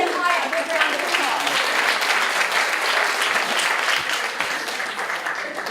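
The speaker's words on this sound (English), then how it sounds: "would you give Maya a big round of" Audience applause at a luncheon, a loud, dense, sustained burst of many hands clapping that fills the room evenly and fades slightly toward the end.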